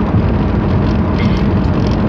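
A V8 Mustang driving on a bumpy highway: a loud, continuous low road and engine roar with wind buffeting, recorded from inside the car.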